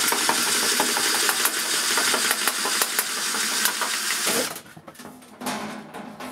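Cordless 18V sheet metal shears, a non-Makita model, cutting through sheet metal with a loud, steady, rattling motor whine that cuts off abruptly, leaving a quieter hum afterward.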